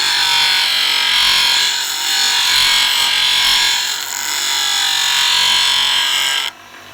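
A bench grinder sharpens a woodturning scraper, a loud continuous high-pitched grinding hiss that swells slightly and cuts off sharply near the end.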